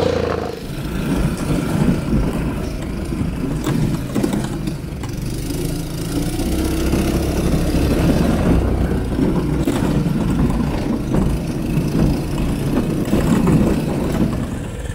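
A small toy pedal-car motor hums and whirs continuously at moderate volume, with faint rattling and no voices.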